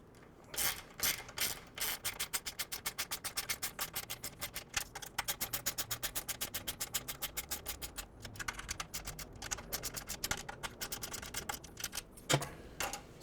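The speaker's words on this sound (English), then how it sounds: "with our 4mm Allen and our 10mm socket, we can now tighten these" A 10mm socket ratchet clicks in fast, steady runs while bolts are tightened with a 4mm Allen key on a Triumph Speedmaster tail light kit. The close, crisp pawl ticks pause briefly and end with a louder knock.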